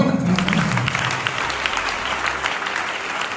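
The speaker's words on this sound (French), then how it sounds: "On acclame." A church congregation bursts into applause, a loud steady wash of many hands clapping that stays strong and then eases slightly toward the end.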